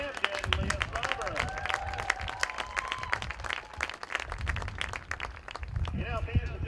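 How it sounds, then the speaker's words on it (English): Fans at a college women's soccer match between BGSU and Northern Illinois applaud an honorary captain, a steady crowd clapping with scattered cheers, while a voice talks over the noise. "let's give a big round of applause for our honorary captain, Leah Sauber"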